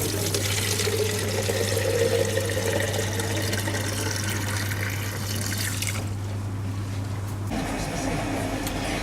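Tap water runs steadily into a container to water a fern indoors, a continuous close trickle and gush that cuts off abruptly near the end, with a low hum underneath.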